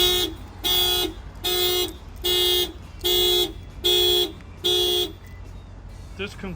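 A Toyota GR86 car alarm with an added shock sensor blares in a steady pattern of seven loud, evenly spaced electronic pulses, each about half a second long, then stops.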